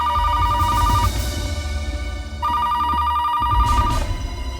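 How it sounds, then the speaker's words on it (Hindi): Telephone bell ringing in two long bursts separated by a short pause, loud and close, over a low background rumble. "फोन उठाओ प्लीज"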